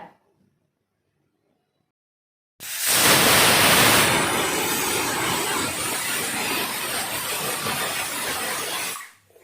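A pressure cooker cooking ghugni lets out a loud, continuous hissing whistle that starts abruptly after a stretch of near silence, holds steady for several seconds, then cuts off sharply.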